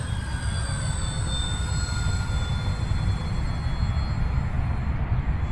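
An E-flite Spitfire Mk XIV radio-controlled model plane, 1.2 m span, flying overhead, a steady motor and propeller whine with slowly shifting pitch over a constant background rumble.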